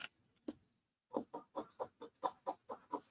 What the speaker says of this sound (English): A chicken clucking.